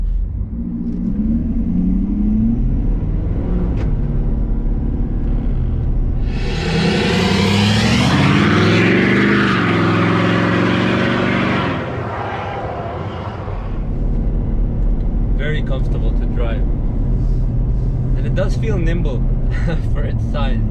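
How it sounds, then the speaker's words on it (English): A USSV Rhino GX diesel SUV engine hums and rumbles steadily from inside the cabin, swelling into a loud revving acceleration midway before settling back to a smooth cruise. "even though it's a diesel engine, it really sounds very nice"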